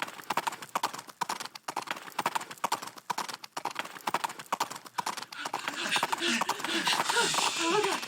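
Horse galloping in a dramatized comic reading, rapid rhythmic clip-clop of hooves, fairly close, giving way to louder rushing commotion with voices in the last few seconds.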